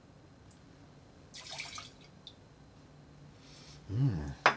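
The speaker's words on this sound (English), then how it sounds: "And we finish with rye whiskey, and it's gonna be the Rittenhouse Bottling Bond, and 45 milliliter or an ounce and a half." Rittenhouse bottled-in-bond rye whiskey poured into a cocktail, a faint, brief liquid trickle with a few soft drips and clicks over quiet room tone.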